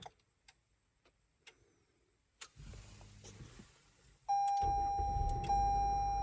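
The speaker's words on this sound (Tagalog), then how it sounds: "pwede siyang mapandar gamit yung susi niya remote. Re-remote natin mga kol. Pindutin mo lang yung lock ng tatlong beses." A 2019 Toyota RAV4 LE AWD started by remote key: soft clicks and ticks, then the engine turns over around the midpoint and settles into a loud, steady idle with a thin whine over it.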